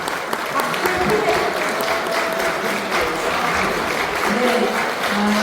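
A crowd claps steadily at a Won Buddhist temple entrance ceremony, a continuous close wash of many hands with faint voices underneath.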